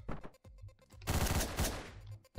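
Rapid rifle gunfire from the video game Hotline Miami, a loud burst of quick successive shots rattling in the middle after a few scattered, sharper single reports.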